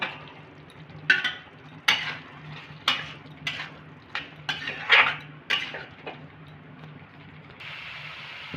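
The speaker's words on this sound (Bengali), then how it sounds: "এবার আমি ভেজে রাখা আলু আর এঁচোড়টাকে মশলার সাথে কষে নেব।" Fried potato and young jackfruit get stirred with spices in a pan for a vegetarian dalna, a metal spatula clanking and scraping in sharp, irregular knocks over a low sizzle, close and fairly loud.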